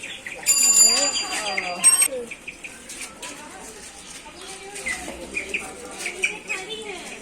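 Ducks and chickens kept together in a yard, with one duck biting a white hen; close bird calls and chirps come in a burst early on, then softer scattered calls follow, while a person talks over them.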